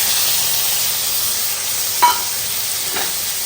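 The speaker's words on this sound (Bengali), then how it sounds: "এবার সবগুলোকে ভেজে নেব ভালো করে" Prawns fry with garlic and green chilies in a pan, a steady loud sizzle broken by two sharp stirring clicks from a utensil against the pan.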